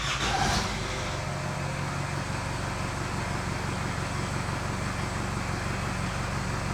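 A diesel Nissan Patrol engine runs steadily after dyno tuning, a close, even, low idle throb that holds unchanged after a brief louder knock at the start.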